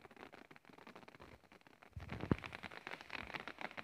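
Light rain falls on a dark, cloudy day over a vegetable plot of leafy greens and ginger, a faint steady patter that thickens into a fuller, slightly louder hiss partway through.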